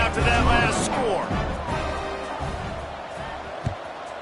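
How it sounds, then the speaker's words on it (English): Football stadium crowd buzzing after a touchdown and extra point, a broad sustained roar of many voices, loud at first and easing slightly over several seconds. "This crowd is buzzing after that last score."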